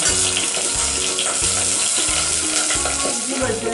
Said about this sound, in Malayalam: വെളുത്തുള്ളിയും ഇഞ്ചിയും ഇട്ട് കൊടുക്കാം.